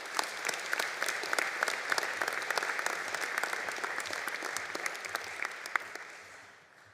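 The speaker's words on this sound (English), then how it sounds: "Please give a round of applause for Barb Fitzsimmons." Applause from graduates, guests, staff and faculty at a college convocation morning ceremony, dense continuous clapping from a large hall crowd that fades out toward the end.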